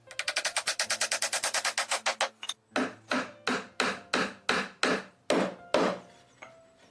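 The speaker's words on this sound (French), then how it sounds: "Il cloue une latte de l'assise" Rapid hammer blows nailing a wooden pallet slat onto a seat, first a quick run of light taps, then slower, heavier strikes spaced evenly; close and sharp, no voices.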